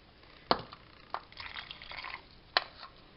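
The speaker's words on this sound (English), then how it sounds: "I'm going to use my canning funnel to finish putting the water in here" Water trickles and drips through a canning funnel into a jar of homemade sauerkraut, with a few sharp splashy drops and soft pouring sounds in between.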